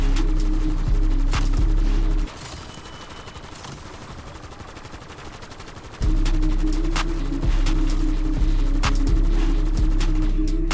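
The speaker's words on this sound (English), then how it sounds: "Here is me firing the MK78 the entire round 14 and expending 298 rounds" An MK78 light machine gun in Black Ops 7 Zombies fires in long, dense sustained bursts, loud and close, with a brief stretch of lighter, thinner fire in the middle before the heavy stream resumes.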